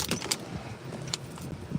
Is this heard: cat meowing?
no